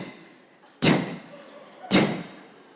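Two loud, sharp bangs on a front window about a second apart, each a hard knock that decays quickly, heard close in a quiet room.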